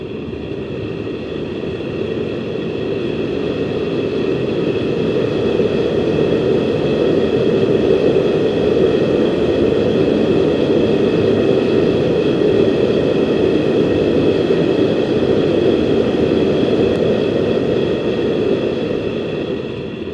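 A propane tank forge burner roars at full gas, a loud, steady, continuous rushing blast that holds constant for the whole stretch after a short ramp-up.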